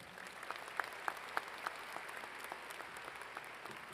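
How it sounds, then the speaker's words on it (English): A large graduation audience applauds a teacher, a steady distant wash of clapping with a few louder individual claps standing out near the start, fairly faint and without speech. "Yes, you can give them a round of applause."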